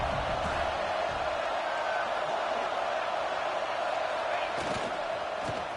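Stadium crowd at a college football playoff game, a steady broad roar of thousands of fans filling the whole stretch, with a faint swell near the end as a play unfolds.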